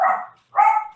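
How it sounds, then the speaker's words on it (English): Dogs bark in two bursts about half a second apart, fairly near and loud with a brief gap of quiet between them. "and now the dogs start barking"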